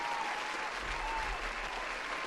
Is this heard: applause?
yes